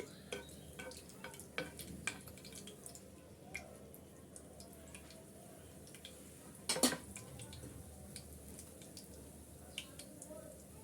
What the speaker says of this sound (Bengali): আমি আবার বাকিগুলো সবগুলো একাত্রে ভেজে নিচ্ছি